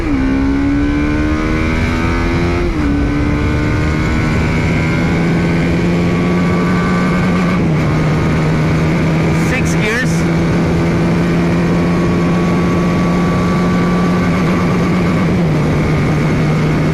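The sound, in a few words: TVS Apache RR310 motorcycle engine on road test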